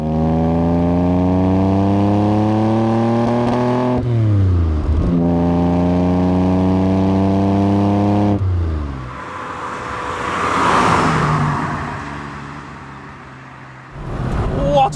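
A classic Aston Martin DB6 accelerates hard through the gears, the engine note climbing with each pull and dropping at the shifts, then it roars past and fades into the distance before another vehicle approaches.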